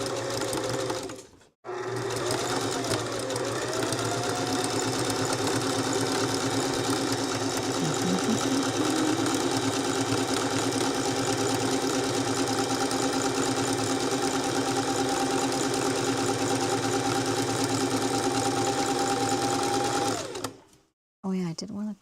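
A sewing machine runs a continuous zigzag stitch around a coiled rope bowl, a steady mechanical whir lasting nearly the whole stretch with a brief pause near the start and a stop at the end.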